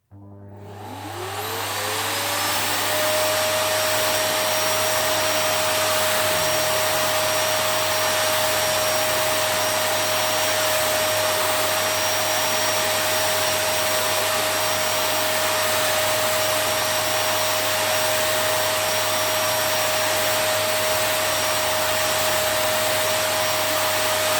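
A Miele Dynamic U1 upright vacuum cleaner runs with its turbo tool fitted, starting up and then holding a loud, steady whine and roar close by with a constant pitch, alone with no talking.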